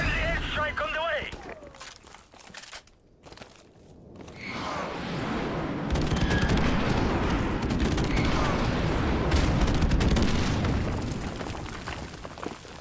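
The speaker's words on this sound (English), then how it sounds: "Friendly airstrike on the way" Call of Duty 4 Remastered battle with an airstrike: loud sustained rumbling explosions and bursts of gunfire fill the scene after a brief quieter gap, continuing dense and heavy to the end.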